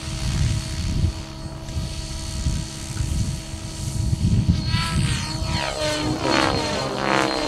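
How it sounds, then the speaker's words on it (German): A radio-controlled model helicopter flies at a model airshow flight day, its rotor and engine drone loud and steady throughout, with a rising and falling whine as it manoeuvres nearby. "Man kann praktisch den Hubschrauber in jede Richtung bewegen."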